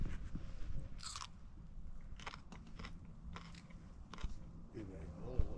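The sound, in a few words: someone chewing food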